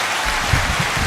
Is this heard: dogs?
no